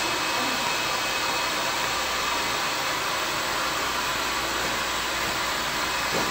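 Salon hair dryer blow-drying a client's hair, a steady loud broadband whoosh holding unbroken throughout with no voices.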